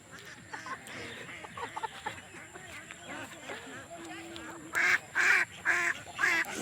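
A flock of lesser whistling ducks on a river calls with several loud, bright bursts near the end, over earlier softer calls mixed with voices and outdoor background.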